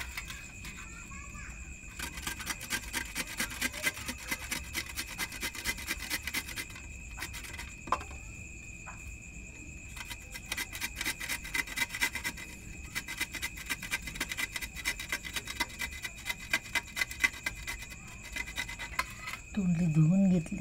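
Ivy gourd is rubbed against a grater in quick, steady rasping strokes, close and continuous, with short pauses between bursts and brief talk near the end.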